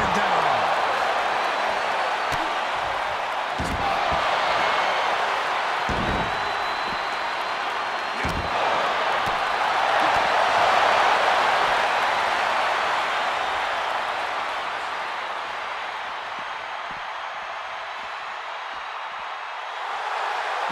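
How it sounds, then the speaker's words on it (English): Roaring arena crowd noise from a WWE 2023 wrestling video game, a steady loud cheering wash filling the whole stretch with occasional sharp thuds and impacts; a commentator's voice runs over it. "The sound of this crowd is deafening."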